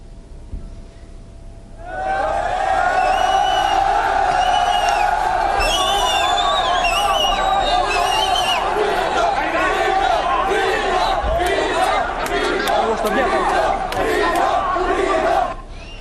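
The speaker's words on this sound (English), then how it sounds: "The crowd chanted Germany, Merkel, and we want to leave." Large crowd of refugees rallying outside Budapest's main train station chants loudly and continuously in rhythmic unison, many voices shouting together close by after a quiet start.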